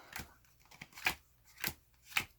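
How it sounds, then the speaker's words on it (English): Playing cards dealt one at a time onto a pile for a simple card trick, giving a few soft, separate snapping flicks spaced roughly half a second apart, close by and quiet, with no talking. "So I'm going to deal out 12 cards for the queen."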